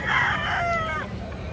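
A rooster crows at a cockfighting gamefowl farm in Bocaue, one clear, loud, near call rising then trailing off within about a second and a half.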